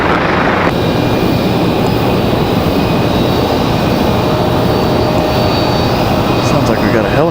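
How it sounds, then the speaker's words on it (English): Aircraft noise at Raleigh Durham International Airport, with a helicopter near the taxiway, gives a loud steady broadband engine roar throughout, a constant rotor-and-turbine drone without breaks; faint voices come through under it. "Sounds like we got a helicopter."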